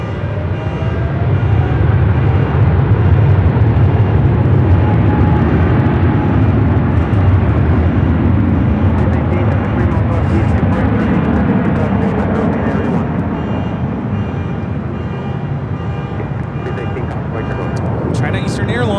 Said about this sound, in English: China Eastern Airlines 586 taking off to Shanghai on the 777-300ER.